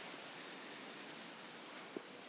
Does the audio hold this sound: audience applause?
no